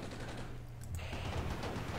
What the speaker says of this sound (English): It looks like we got this IFV firing the 20mm M55 autocannon